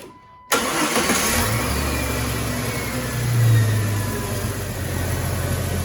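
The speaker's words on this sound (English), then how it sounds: "and then go ahead and start your vehicle." A 1998 Jeep Wrangler fitted with a new distributor cap and rotor cranks and starts after a brief silence, then settles into a steady nearby idle with a slight rev partway through.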